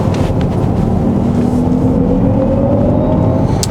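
A 2019 Jaguar I-Pace electric car pulls hard on a winding road, a rising electric whine climbing over steady road and tire roar inside the cabin, loud and continuous with no talk.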